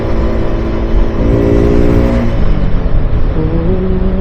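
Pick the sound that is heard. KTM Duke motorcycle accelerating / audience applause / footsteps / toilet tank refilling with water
KTM Duke motorcycle accelerating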